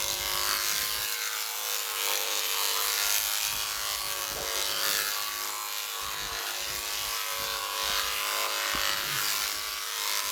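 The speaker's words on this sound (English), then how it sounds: "Sorry for the noise of the clippers." Electric clippers run steadily and close up while clipping the back of a farm animal for winter, a continuous buzzing hum with faint rubbing through the coat and no talk.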